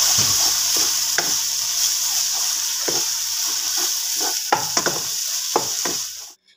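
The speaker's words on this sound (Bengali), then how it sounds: "দিয়ে এবার এটাও আমি কষিয়ে নেবো মশলার সাথে।" Spice paste with tomato ketchup fries in a pan for a fish-head recipe, a steady loud sizzle broken by repeated scraping stirs of a spatula, close and without voices.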